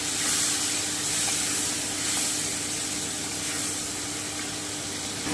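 Vegetables simmering in warm water in a pot for a vegetable curry with lentil dumplings, giving a constant soft hiss and bubbling with faint stirring, steady and close, without talk.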